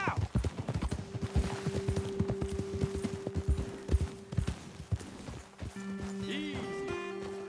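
Hooves of horses in Red Dead Redemption 2 thud on the ground in an uneven rhythm, close and clear, with a sustained tone and brief game sounds around them that fade as the animals slow.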